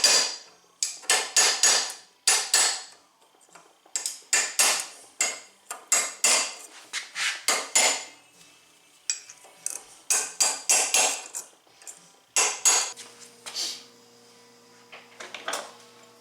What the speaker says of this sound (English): Let's go around with a punch to drive it in.